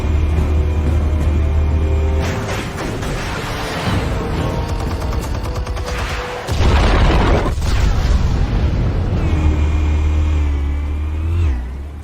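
Explosives going off in Batman: The Telltale Series, loud sustained booming rumbles with crackling bursts, swelling twice over the stretch amid game music and effects.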